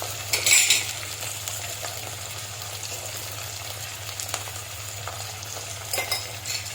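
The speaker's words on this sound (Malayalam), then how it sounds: "തക്കാളിക്ക് ചേർത്ത് നല്ലപോലെ ഇളക്കി കുറച്ച് ഉപ്പ് ചേർത്ത് കൊടുക്കാം" Tomatoes frying in a pan for a Kerala-style fish curry with mango are stirred with a utensil, giving soft scraping and clinks over a low, steady sizzle, loudest near the start and again toward the end, with no voices.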